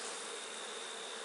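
Honeybees buzzing at an open hive: a dense, continuous high drone of many wings, steady and fairly close, with no other sounds.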